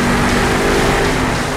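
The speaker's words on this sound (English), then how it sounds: "Now Monster Mutt Dalmatian Ice is getting some donuts." Monster Mutt Dalmatian Ice monster truck spinning donuts in the BeamNG.drive game, a loud, steady engine roar with a constant low drone and rushing noise, close and unbroken throughout, with no talking.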